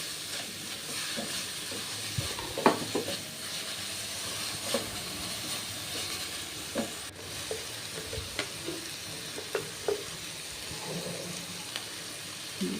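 Ground spice paste frying with dried fish and garam masala in a pan, a steady soft sizzle and hiss with occasional scraping stir clicks, no voices.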